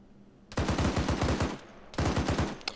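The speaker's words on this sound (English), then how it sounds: "that's Peter shooting" Gunfire in Arma 3: two long bursts of rapid automatic fire, each a quick string of loud, close cracks, separated by a short pause, with a sharp single report near the end.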